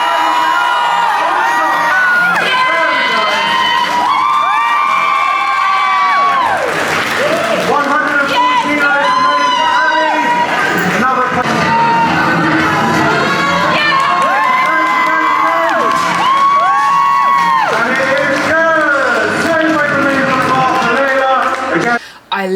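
A crowd at a deadlifting competition cheers, whoops and shouts continuously with bursts of applause, loud and close, with voices rising and falling in excited waves.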